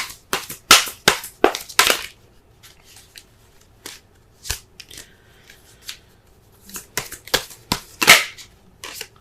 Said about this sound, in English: Let's go ahead and shuffle so we can get a clearer understanding of the cards here.